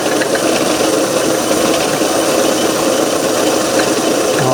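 Garvin lathe parting off a workpiece, a steady close mechanical drone with a gritty, rattling cutting texture running evenly throughout, no voices.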